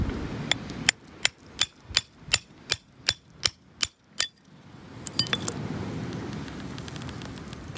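A metal chisel strikes rock about a dozen times in a steady rhythm, sharp close cracks while splitting open an ammonite fossil at a landslide, then fainter scraping and rustling of stone.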